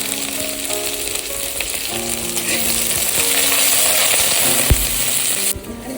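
Chopped onion and green chilli frying in hot oil for a tangra fish curry with brinjal and potato: a loud, continuous sizzle with light stirring, ending in a sharp clink and a sudden drop.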